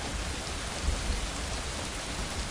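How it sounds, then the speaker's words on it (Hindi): Heavy rain falls steadily over a village, a dense, continuous hiss with a low rumble beneath it, loud and unbroken and with no voices. "गांव में जोर से बारिश हो रही थी।"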